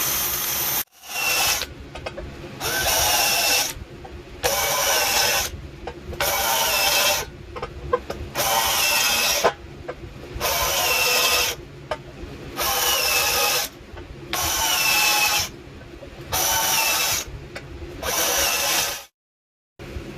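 A power drill bores 1/4 inch holes into the floor supports of a 1969 Mustang, running in repeated bursts of about a second each separated by short pauses, with a harsh whining grind throughout.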